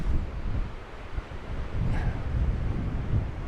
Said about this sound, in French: Étant donné qu'il y a du vent de dingue.